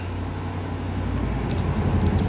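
Steady road traffic rumble drifts in from outside a studio, a continuous low broadband wash with no distinct passes and no talk.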